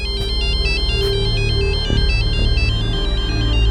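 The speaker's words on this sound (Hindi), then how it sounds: "साहब ये देखिए, उसी का फोन है सर।" A phone ringtone plays a repeating electronic melody, loud and close, over a low background hum.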